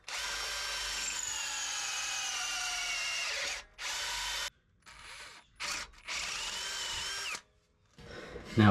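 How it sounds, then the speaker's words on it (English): Power drill boring holes through the frame of a 2020 Ram 1500 pickup for a Rough Country 6-inch lift kit, loud sustained whine in bursts of several seconds, stopping and restarting with short pauses. "Then we have to drill some holes."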